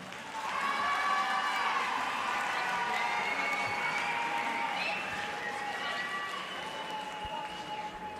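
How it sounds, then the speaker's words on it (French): Applause and cheering from a crowd at an agricultural school competition event, fairly distant and soft, with a few high shouts and whoops rising over the steady clapping. "On les applaudit."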